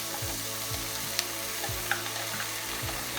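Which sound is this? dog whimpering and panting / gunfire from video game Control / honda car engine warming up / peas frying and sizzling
peas frying and sizzling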